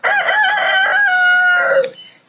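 A rooster on a homestead gives one loud, close cock-a-doodle-doo crow that rises and then trails off, ending in a brief sharp note and silence.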